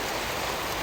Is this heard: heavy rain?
yes